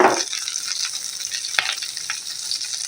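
Chopped onions and green chillies hit hot oil in a pan, an initial burst of sizzle settling into steady frying with occasional stirring scrapes, close and alone.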